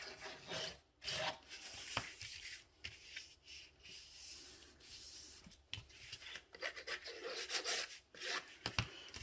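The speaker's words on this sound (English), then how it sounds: "I'm not gluing anything down yet. I am just folding and burnishing." A bone folder folding and burnishing the paper edges of a window box, making soft, close rubbing and rasping strokes in irregular bursts with brief pauses, fairly quiet and with no talk.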